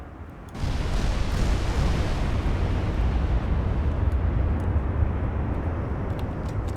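Battleship guns fire shells in Ultimate Admiral: Dreadnoughts. A sudden loud blast rolls into a long, heavy rumbling roar that holds steady to the end.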